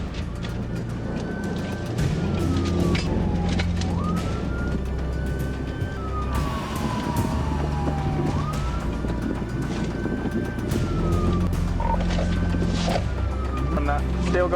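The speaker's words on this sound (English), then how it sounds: "When lights and sirens came on, the driver refused to stop and tried to flee." A police car siren wails and yelps continuously over a loud, roaring engine during a pursuit of a fleeing driver, with voices talking intermittently beneath the din.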